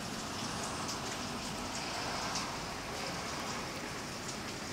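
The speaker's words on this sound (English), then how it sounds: "now it's raining" Steady rain pours down outside an apartment in a place where rain rarely falls, a dense, even hiss of drops on surfaces that holds constant throughout with no voices.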